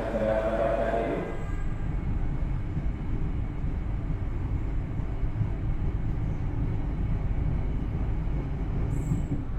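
Gaya Baru Malam Selatan economy New Generation train running, heard from on board as a steady loud rumble of wheels and carriage noise, with a brief higher whine at the start and a voice talking.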